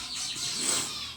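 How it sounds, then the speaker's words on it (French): Birds chirp and tweet outdoors in a continuous bright chatter, fairly faint and steady, with no talking. "Les oiseaux, on les entend bien."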